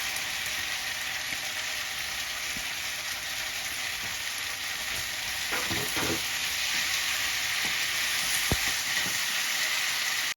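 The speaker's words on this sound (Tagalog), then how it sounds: "Lalagay ko na po ang tangkay ng kumatsuna." Komatsuna stalks going into a pot of soup: steady loud sizzling and bubbling with occasional stirring clanks, continuous throughout with no talk.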